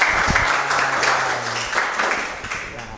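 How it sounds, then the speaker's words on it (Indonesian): A classroom of students claps for a classmate, a brief burst of scattered hand claps that fades over a few seconds while a voice talks over it. "Tepuk tangan buat Tarisa."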